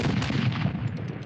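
Incoming mortar fire in a 1943 wartime scene, a dense, continuous rumble of blasts and booming impacts lasting just over a second, loud and heavy with no talk over it.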